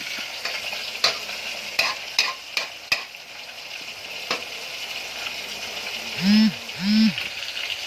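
Sweet potato tops simmering in coconut milk in a pot, with a steady bubbling hiss, several sharp stirring clinks and two brief low gurgling pops near the end.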